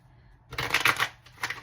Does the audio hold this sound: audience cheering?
no